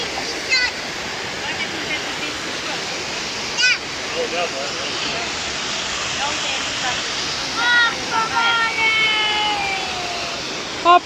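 Water rushes steadily down a mountain waterfall in the Bucegi range, a loud continuous roar with a few splashes, and people talk nearby.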